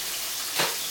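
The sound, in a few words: chicken livers sizzling in frying pan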